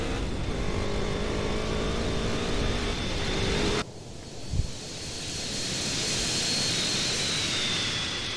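An airplane flies in GTA San Andreas with a steady droning engine roar and rushing wind, the tone shifting abruptly partway through before settling into a sustained hum.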